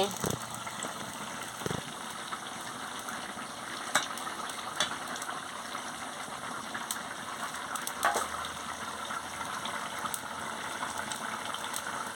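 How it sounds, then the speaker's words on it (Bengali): A potato, pointed gourd and paneer curry bubbles steadily in a pot, a soft continuous simmer with a few faint clinks. "দেখুন বন্ধুরা, কি সুন্দর টকবক করে ফুটছে।"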